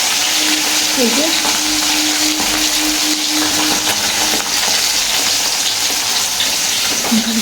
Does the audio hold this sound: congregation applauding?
no